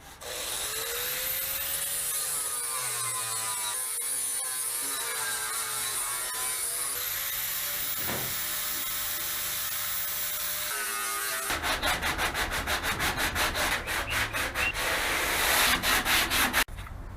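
A grinder works over car body panels in a garage, loud and continuous with shifting pitch, then changes to a rapid chattering rasp toward the end.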